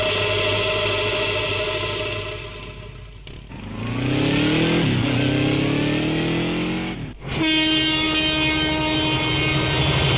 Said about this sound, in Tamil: 9:30 மணிக்கு ராயபுரம் ரயில்வே ஸ்டேஷன்.